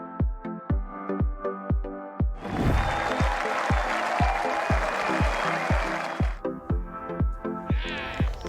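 Sustained applause and clapping from a crowd at a golf course, rising suddenly and holding steady for several seconds between stretches of rhythmic, evenly spaced music-like beats.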